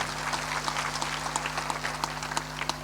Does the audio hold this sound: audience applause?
yes